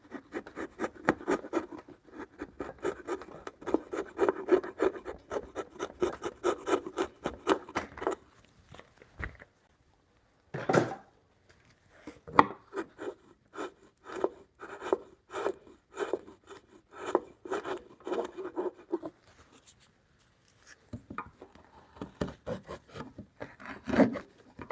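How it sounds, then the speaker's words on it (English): A larger wood chisel paring timber down to a marked line during hand-cut joinery for a timber bunk bed, heard as close, quiet scraping and shaving strokes in bursts, separated by brief pauses and a few sharper knocks. "I'm going to go after this with a larger chisel"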